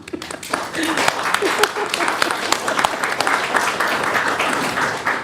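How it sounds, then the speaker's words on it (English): Audience applause at a town candidates night, a steady clatter of many hands clapping throughout, fairly loud and close, with some voices mixed in. "this would be an opportunity if you want to applaud"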